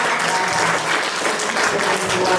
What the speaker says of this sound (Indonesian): Mari kita sambut dengan tepuk tangan yang meriah kepada Kepala Bapeda